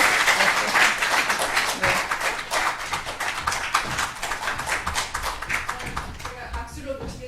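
A lecture audience applauds to welcome a speaker, steady dense clapping that carries on and thins slightly near the end, with a brief spoken word over it.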